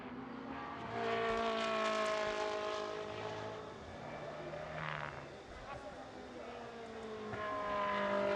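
A Ferrari Challenge GT race car drives through the Jerez circuit, its engine note rising and falling as it passes through the corners, with a commentator's voice running over the engine sound.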